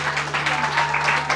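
A church congregation applauding for Jesus, dense steady clapping from many hands filling the room, loud and continuous, with a low steady hum underneath.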